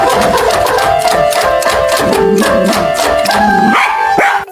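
A dog barking and yipping loudly and continuously up close, with repeated howling, whimpering cries that rise and fall throughout and cut off abruptly at the end.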